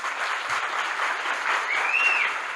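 An audience at a talk applauds a professor being introduced, a steady, moderately loud spread of clapping with a brief high whistle rising partway through.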